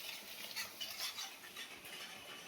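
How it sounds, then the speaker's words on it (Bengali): Spice masala with salt frying in a hot pan as it is stirred, a steady soft sizzle with light scraping of a utensil against the pan, quiet and continuous with no talk. "ভালো করে একটু মশলাটা কষে নিই।"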